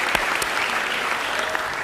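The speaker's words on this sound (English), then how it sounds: "Big round of applause to all of you who have participated in" Brief applause from an audience at a climate forum, a short burst of close clapping with a few sharp claps standing out over the crowd.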